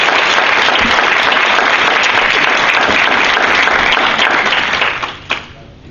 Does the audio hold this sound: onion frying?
no